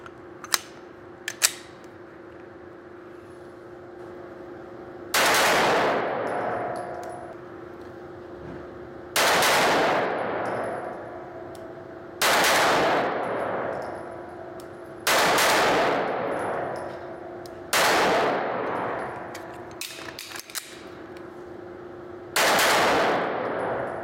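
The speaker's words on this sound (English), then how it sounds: "So now we'll do a little bit of quicker shooting, like some control pairs, and see how it does." Loud IWI Masada pistol shots fired in quick pairs, about six evenly spaced bursts each ringing out and decaying, with a steady hum and a few small clicks between them.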